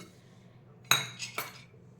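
A metal spoon clinks against a bowl as three spoonfuls of sugar go into gram flour batter for nylon khaman dhokla, two or three quick bright taps close by in an otherwise quiet kitchen.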